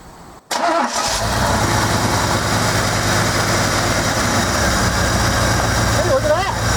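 A 1986 Camaro IROC Z28 with a suspected head gasket problem starts after a brief cranking moment and settles into a loud, steady idle with a low rumble, a person speaking faintly over it.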